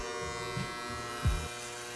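Electric hair clippers buzz steadily as they cut off all of a person's hair, a constant close whine with a brief bump in pitch as the blade meets thicker hair, and no talking.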